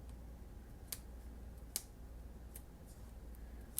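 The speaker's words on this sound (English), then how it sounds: "I'm just cutting a thinner strip right here" Soft, crisp snips of scissors cutting paper, three or four spaced clicks over a steady low background hiss, close by and fairly quiet.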